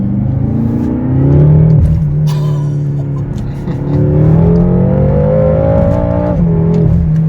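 A BMW M6 F13 engine revs hard, pitch climbing and dropping through several loud rising sweeps with a brief dip midway, close and continuous, no talk.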